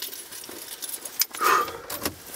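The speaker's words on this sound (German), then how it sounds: "Da ist mein Schlüssel." A bunch of keys jangles close by, light metallic clinks building into a louder shake midway before settling, with faint background hum and no talking.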